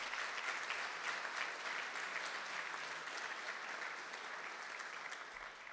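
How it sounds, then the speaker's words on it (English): An audience at a dinner for a building dedication applauds a jazz quartet, giving a dense, steady wash of clapping that fades slightly toward the end, with no talk. "Let's give them a round of applause as well."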